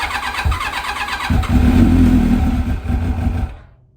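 A carbureted Kawasaki ZX7 sportbike cranks on a cold start with the choke on, the starter churning before the engine catches into a loud rough run for a couple of seconds, then dies away.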